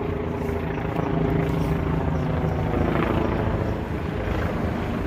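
A helicopter's rotor thrums loudly and steadily overhead in Lower Manhattan, New York City, a continuous throbbing drone that swells slightly midway, with no one talking.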